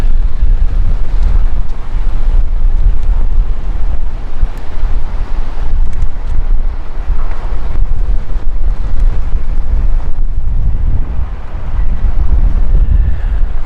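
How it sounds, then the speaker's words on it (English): Strong wind gusts roar across the microphone during a Boise, Idaho dust storm, a loud continuous buffeting rush with surging peaks and no let-up. "Here comes another huge gust behind me."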